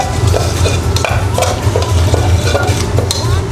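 A spoon scrapes and stirs zucchini in a sizzling pan for spaghetti alla Nerano, repeated close scraping strokes over a steady gentle fry, with no talking.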